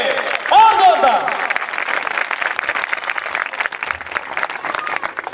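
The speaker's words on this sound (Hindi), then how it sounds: "जोरदार तालियां यीशु के लिए" Enthusiastic applause from a congregation at an Easter church program, dense steady clapping throughout with a voice speaking briefly at the start.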